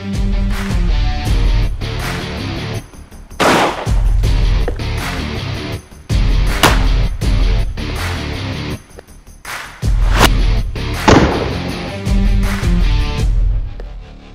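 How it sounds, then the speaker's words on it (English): Three sharp, loud shots from a Beretta 1301 Comp Pro shotgun firing solid slugs at 2-litre soda bottles ring out several seconds apart over steady background music. "Beretta 1301 Comp Pro, 3 2-litre soda pops, solid slug."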